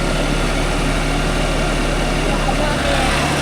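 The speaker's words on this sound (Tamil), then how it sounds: "இன்ஜின் சவுண்டு பாருங்க, அப்படியே புஸ்ஸுன்னு வருது." Deutz-Fahr 80 hp air-cooled turbo 4WD tractor engine running steadily in farmland with a cultivator, a loud continuous low drone and airy hiss with no break.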